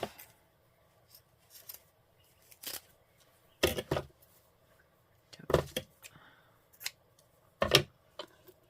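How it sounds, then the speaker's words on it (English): Scissors snip through a piece of white lace for a craft journal: several separate crisp cuts spaced a second or two apart, close and clear against an otherwise quiet room. "Piece of white lace. And just cut a piece of this off."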